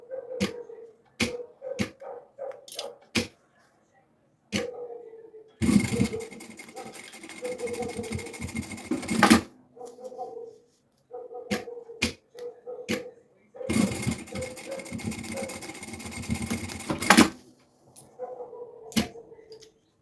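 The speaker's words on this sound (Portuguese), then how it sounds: "Agora vamos passar ali uma costura para segurar." A sewing machine stitches the straps onto a preschool backpack in two long, loud, continuous runs, with short bursts and clicks between them and someone speaking at intervals.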